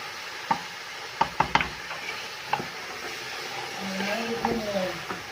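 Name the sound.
stirring potato, pea and carrot mix frying in pan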